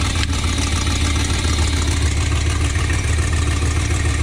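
An abandoned 1979 Winnebago motorhome's engine runs at a steady idle, a continuous low rumble with a slight exhaust leak, close and fairly loud with no talking.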